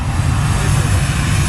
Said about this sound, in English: Got another aircraft taxiing up to taxiway,